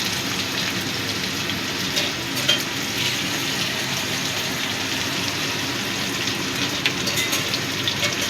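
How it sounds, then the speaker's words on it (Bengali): Cut potatoes fry in a pan with a dense, even sizzle like light rain and occasional stirring taps, heard close and alone without voices. "আলুটা একটু ভেজে নেব"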